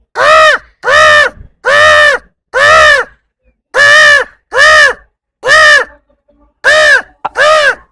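A man imitates a crow, cawing loudly in a steady series of about ten harsh, evenly spaced calls with short gaps between them.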